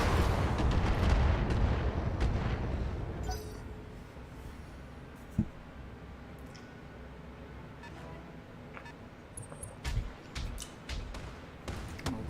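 Mech weapons fire in the Battletech video game as heavy booming blasts at the opening, fading into a rumbling backdrop, then one sharp impact and a few scattered later hits.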